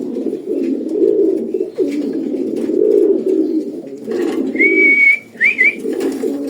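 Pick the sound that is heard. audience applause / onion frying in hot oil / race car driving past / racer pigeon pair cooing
racer pigeon pair cooing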